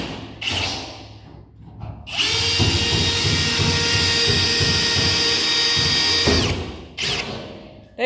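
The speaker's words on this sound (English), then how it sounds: "Now he's getting those holes drilled in the bottom of the bed." A power drill bores holes through the bottom of a truck bed to mount a toolbox, a loud high whine at close range that runs steadily for about four seconds, with shorter bursts of drilling before and after.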